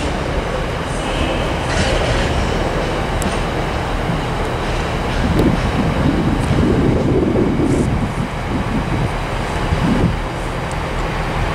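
A short freight train rolls through Carlisle station on the West Coast Main Line, a steady loud rumble of wheels and wagons with faint rail clatter, sustained and close throughout with no talk.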